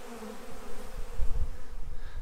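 Honey bees swarm a community feeder in a thick, close, continuous buzzing hum that swells and pulses as many insects fly about at once.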